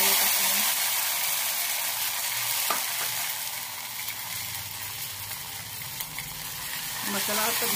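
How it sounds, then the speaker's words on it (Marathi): Tempering for amti sizzling in hot oil with curry leaves, cumin and mustard seeds, a loud close crackling hiss with occasional stirring clinks, fading slightly midway and swelling again at the end. "आमटीला फोडणी घालूया."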